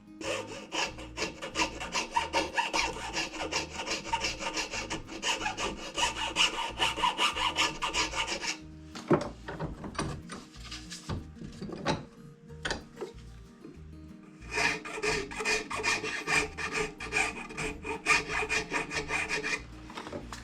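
Steady rhythmic rasping of a round chainsaw file scraping back and forth over wood edges on a box joint jig, pausing briefly midway before resuming.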